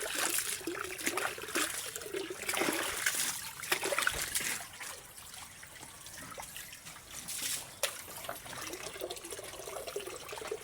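Water trickles and splashes steadily as it is poured out for pigs on a farm, a soft continuous flow with faint drips and no talk over it.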